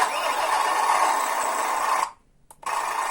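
A steady simulated engine drone from a sound simulator on a WPL B36 Ural RC truck runs for about two seconds, cuts out abruptly, blips briefly, then resumes its buzzing hum.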